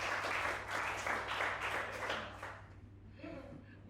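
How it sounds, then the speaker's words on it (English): A class claps for themselves at the start of a humour lesson, a burst of group applause that thins out and fades after a few seconds, with faint room noise and a low hum underneath. "give yourselves a round of applause for even making it today."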